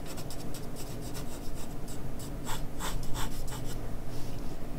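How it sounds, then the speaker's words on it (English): Pencil drawing lines on paper while sketching a dog, a close, dry scratchy rubbing in short repeated strokes of varying length, soft and continuous with no talking. "Then I can draw a cross line."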